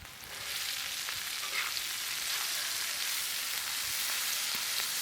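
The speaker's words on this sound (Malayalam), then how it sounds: "ഒന്ന് ഇളക്കി കൊടുക്കണം ആ എണ്ണയ്ക്കകത്ത് മുരിയണം" A kilo of finely chopped onions and slit green chillies fry in oil with a loud, dense, continuous sizzle close by, rising slightly after a softer start.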